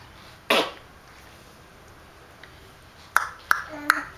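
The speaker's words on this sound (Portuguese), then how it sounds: "Ai, que tosse, filho." A baby coughs in short, close bursts: one sharp cough, a long quiet gap, then three quick coughs near the end, in a quiet room.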